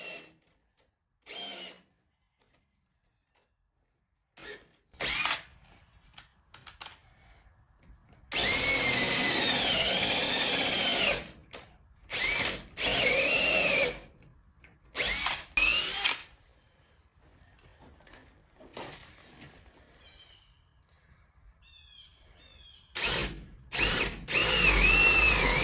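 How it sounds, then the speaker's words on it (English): A power drill pre-drills lag bolt holes through a gate hinge into a wooden post inside a goat barn, sounding in several loud, close bursts of whirring with quiet gaps between them. "here I'm going to pre-drill a hole at the top and the bottom for those lag bolts to secure the hinge and the gate to the post"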